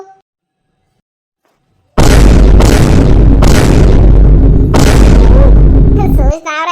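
Firecrackers explode in a village street after near silence: four loud, close booming bursts in quick succession, each followed by crackling decay, with a voice heard at the very end.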